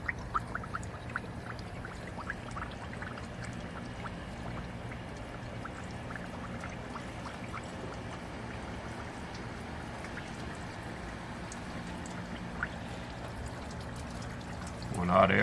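Coolant pours into the cooling system of a 2011+ Dodge Charger 3.6L during a thermostat change, a steady gurgling stream running for over ten seconds with scattered plastic taps at the start.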